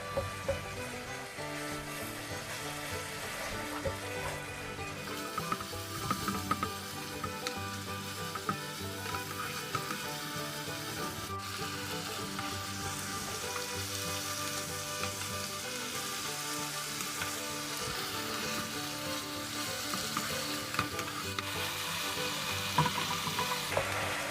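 Sliced pork stir-fries in teriyaki sauce with sugar, a long, even sizzle and bubbling hiss with occasional light scrapes and taps of a spatula in the pan.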